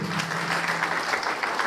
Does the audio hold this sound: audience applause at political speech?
yes